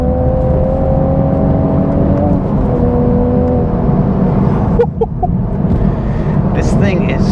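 A 2023 Toyota Supra with a manual gearbox pulls hard in fourth gear, its loud, close engine note droning and climbing steadily in pitch after a brief shift in tone.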